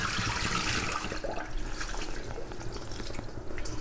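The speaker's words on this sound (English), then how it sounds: "we're going to pour it into a strainer" Soaked sweet potato glass noodles and cold water are poured from a bowl into a strainer, a continuous close splashing and trickling rush that eases off toward the end, with no talk.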